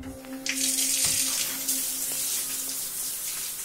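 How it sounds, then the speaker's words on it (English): A hotel shower runs steadily nearby, its water hissing and splashing loudly and without a break for several seconds. "I've never heard of a hotel shower that runs out of hot water before."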